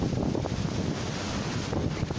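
Stormy Lake Tanganyika with huge waves and strong wind, a constant roar of gusts buffeting the microphone over churning water, loud and continuous with no voices.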